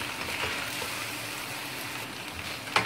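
Chicken, vegetables and noodles for a chicken chowmein are stirred together in a hot pan, giving a steady frying sizzle with soft scraping, plus a brief louder clatter near the end.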